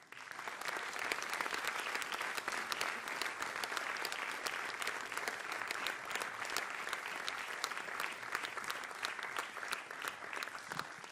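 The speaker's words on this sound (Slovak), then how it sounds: "Váš potlesk." Steady, dense applause from an audience of teachers and students at a formal school event welcoming a state secretary, continuous clapping sustained for about eleven seconds with no talk over it.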